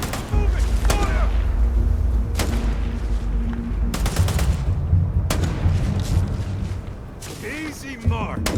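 Gunfire in the sci-fi video game Starfield cracks out as several sharp, loud shots spaced irregularly across the scene, with character voices heard between and over the shots.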